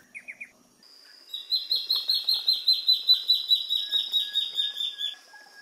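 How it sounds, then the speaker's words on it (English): Male black-faced antbird calling in Amazonian bamboo forest: a few short opening notes, then a long, close series of rhythmic, evenly spaced high whistled notes, clear and alone. "One of the first to show was a male black-faced ant bird."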